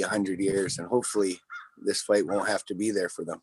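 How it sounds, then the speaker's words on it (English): Crows caw outdoors in the background, a brief call slipping into a gap in the steady speech of a person talking over them close to the microphone. "we hear the birds there behind you"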